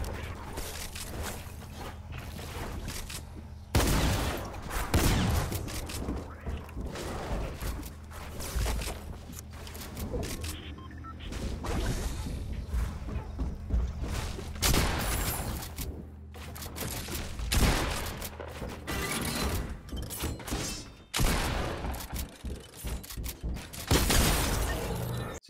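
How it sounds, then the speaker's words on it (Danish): Gunfire in the Fortnite video game, several dense bursts of shots with loud sharp onsets recurring through the clip over a busy game soundscape. "Ja, de skyder lige efter."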